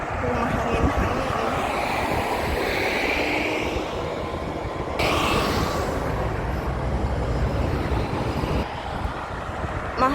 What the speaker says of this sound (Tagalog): Ay mahangin na naman guys, kaya pasensya na kung mahangin-hangin.